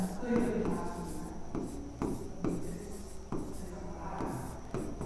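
Pen scratching steadily on paper while Euclid's division is written out for a Class 10 NCERT real numbers maths solution, a close, continuous writing rasp with short pauses between strokes.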